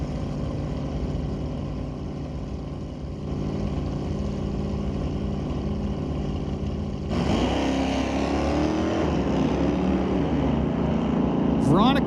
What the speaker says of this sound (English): Now we have Veronica Hodgson, 69 Dodge, 360 powered, driving for Lordco.